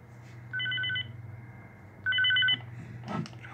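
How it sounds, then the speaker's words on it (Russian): A DMR digital radio receives a telemetry message from a security motion sensor, giving two short bursts of clear electronic multi-tone beeping about a second and a half apart, followed by a brief rustle in a quiet room. "Приходит сообщение телеметрии."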